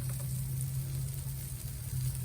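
London broil steak fries in a pan with a steady, quiet sizzle that holds at an even level throughout, alone with no talk and a low hum underneath.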